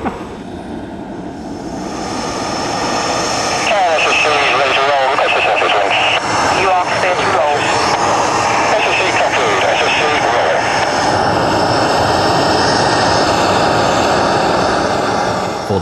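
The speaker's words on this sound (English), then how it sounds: "First time, Thrust was running on her own engines." Thrust SSC jet car running on its own jet engines for the first time during short test runs on rubber wheels: a loud, sustained roaring whine that swells in and holds steady, with broadcast voices over it.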